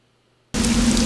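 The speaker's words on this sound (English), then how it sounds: "Exterior rain and interior hum. These are 2 looping files." Steady exterior rain loop, a dense hiss of falling rain that starts abruptly and continues loud and uniform with no voices.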